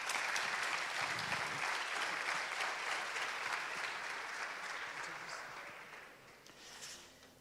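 An audience at a conference main stage applauds the speakers with a full burst of clapping that fades gradually over several seconds, heard from a distance with no talking over it.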